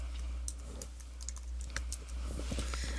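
Quick, irregular keystrokes on a computer keyboard tap out a short word, close and fairly soft over a steady low hum, with no one talking.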